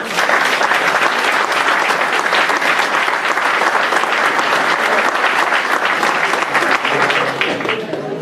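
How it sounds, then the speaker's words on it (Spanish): An audience applauds at an accountants' day commemoration event, with dense, sustained clapping from a full room that stays loud and even throughout. "pido un fuerte aplauso para todos ustedes"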